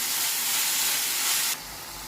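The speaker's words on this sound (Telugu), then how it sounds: "మెంతికూర మగ్గుతుందండి" Fenugreek leaves frying in oil over a medium flame for a fenugreek and tomato curry give a steady, loud, close sizzling hiss that drops slightly in level near the end.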